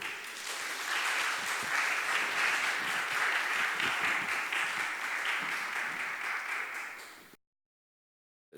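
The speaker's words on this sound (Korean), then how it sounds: "여러분의 큰 박수와 함께 시작하겠습니다" Audience applause opening a health talk show on women's health, broad and steady clapping from a large crowd for about seven seconds before it cuts to silence.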